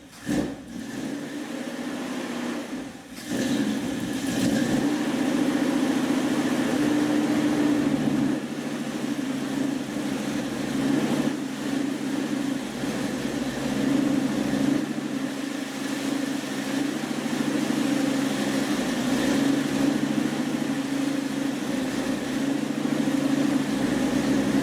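A carbureted car engine fitted with an Edelbrock carburetor runs steadily after starting, a close, continuous mid-pitched drone with a brief dip early on and no talking over it.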